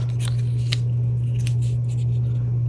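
Scissors snipping through tape or paper while trimming around an elephant resin mold ornament, several quick crisp cuts over a steady low electrical hum, close by.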